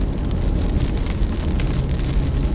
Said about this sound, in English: It is very stormy and very rainy and very windy